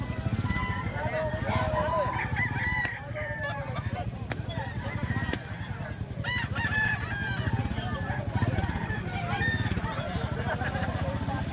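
Roosters crow and cluck among fowl on offer at a market, a continuous rough crowing chorus at moderate distance beneath constant talking.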